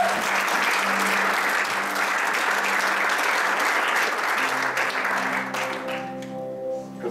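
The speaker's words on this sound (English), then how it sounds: "guys, give them a big round of applause" A church congregation gives steady, full applause for a couple coming forward for baptism, the clapping holding loud and even before easing as a soft tone and murmurs come through near the end.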